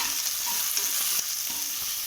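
Onions and curry leaves fry in a pan while being stirred, a loud, continuous close sizzle with faint scraping from the stirring, no voices.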